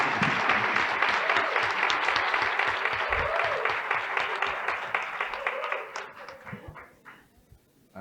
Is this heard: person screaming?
no